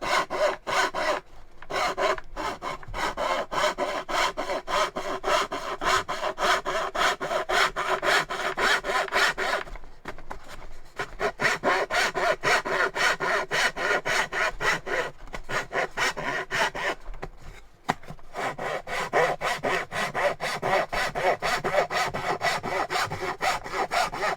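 A Japanese pull saw cuts through wood in a long run of steady, rapid rasping strokes, close and loud, pausing briefly twice before resuming, with no voices.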